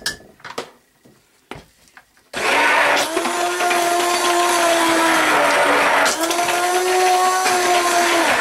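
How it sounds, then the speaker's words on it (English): A heavy stick blender mixing cold process soap batter starts after a few light clatters, then runs as a loud, steady whir with a strained, shifting motor pitch, briefly dipping before resuming. "Blender is way heavier than my other one"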